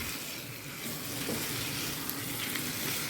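Prawns added to a masala gravy in a pan, frying and being stirred with a steady close sizzle and soft scraping throughout, no talking.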